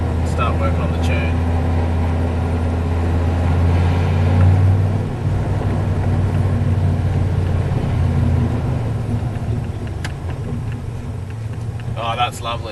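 A turbocharged LS1-powered car fitted with a Tilton master cylinder and billet slave cylinder drives along with a steady low engine drone that shifts in pitch and loudness as gears change, recorded from inside with some wind noise.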